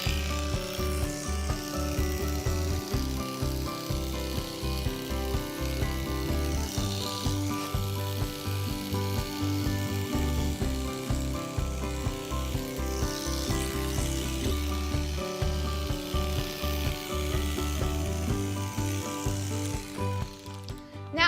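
Electric clippers buzz steadily while trimming a horse's coronet band and the backs of its legs, a close, continuous drone with rhythmic mechanical chatter and small fluctuations as the blades move through the hair.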